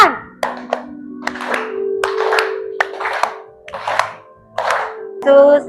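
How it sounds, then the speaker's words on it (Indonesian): Children clap their hands along to a Christian song about Jesus' love, with about eight sharp, spaced claps in a steady rhythm alongside singing voices. "sambil tepuk tangan"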